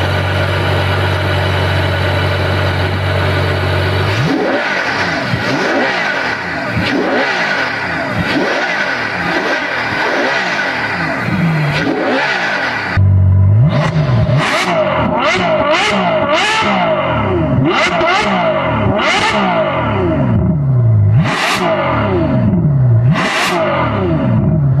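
A naturally aspirated 740-horsepower V12 supercar engine roars through repeated sharp throttle blips, pitch sweeping up and down, loud and close, with a brief pause before more aggressive revs.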